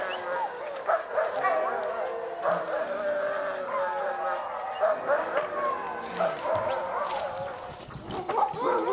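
A pack of sled dogs in Jefferson, New Hampshire barks, yips and whines excitedly while being hooked up, with overlapping calls near and far and people talking underneath.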